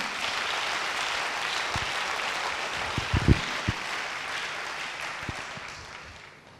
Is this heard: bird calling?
no